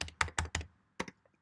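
A computer keyboard typed at close range while entering a short tag name in Final Cut Pro X: a quick burst of four crisp keystrokes, a brief pause, then two or three more clicks fading out. No voices.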